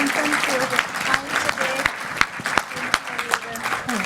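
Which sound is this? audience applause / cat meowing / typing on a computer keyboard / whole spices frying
audience applause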